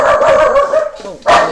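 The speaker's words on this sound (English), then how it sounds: "there's tons of dogs outside barking and barking." Dogs barking outside, a loud burst of several close barks followed by a brief pause and another sharp bark.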